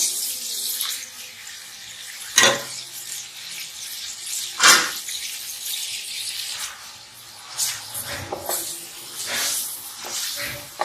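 Onions dropped into hot ghee in a kadai for qeema aloo mutter, giving a steady broadband sizzle and hiss with a few sharper bursts as pieces hit the fat, close and fairly loud with no talking.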